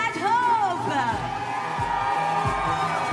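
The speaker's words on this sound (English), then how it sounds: "Big round of applause for Ben Tudhope, the flag bearer here." A crowd at a para snowboard banked slalom final at Milano Cortina cheers and whoops for a bronze medalist, lively and sustained beneath a loud announcer's voice.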